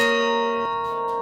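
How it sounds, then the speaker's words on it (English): Bell tower of St. Michael's Russian Orthodox cathedral in Sitka ringing, two or three bright sustained strikes with long ringing overtones, loud and clear with no voices. "complete with a bell tower which goes off every day at noon."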